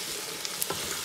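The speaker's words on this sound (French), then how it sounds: "Et je vais les faire revenir tous ensemble." Lobster pieces and vegetables sauté together in a pot, giving a steady, close frying sizzle with a few small clicks and stirring knocks and no talking.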